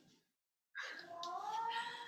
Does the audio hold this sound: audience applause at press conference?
no